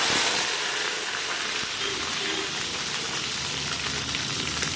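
Peeled garlic fries in hot sesame oil, giving a steady, close hiss and crackle that sizzles continuously without pause.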